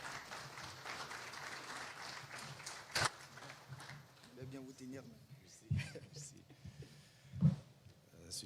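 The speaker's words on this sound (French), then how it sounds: "Je voudrais également vous inviter à l'applaudir," An audience at a formal ceremony with a minister present claps fairly faintly, the applause strongest in the opening seconds and then dying away, followed by quieter talk and a few scattered sounds.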